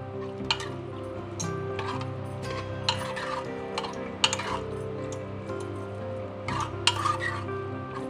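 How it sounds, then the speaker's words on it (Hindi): A spoon scrapes and clinks against a metal pressure cooker pot in irregular strokes, mixing mutton shami kabab ingredients with water, over a steady background hum. "अब इन सबको अच्छी तरह से मिक्स कर लेंगे।"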